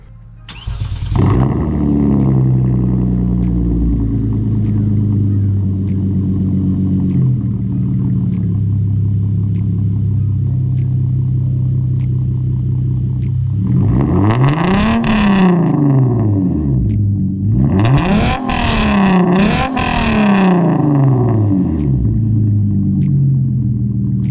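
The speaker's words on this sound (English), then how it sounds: "Now that you've heard some revs and whatnot" A Hyundai Genesis Coupe's throaty engine idles loudly nearby, then revs up sharply several times, rising and falling in pitch before settling back to idle.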